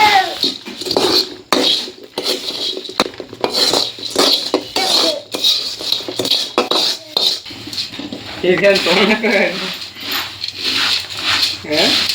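Utensil scraping and clinking against a pan while churmuri masala is mixed, Kalaburagi-style, after the gas is switched off; steady stirring taps and scrapes run throughout beneath continuous talking.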